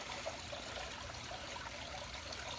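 A garden water fountain trickles steadily, a soft and faint continuous splashing with no voices.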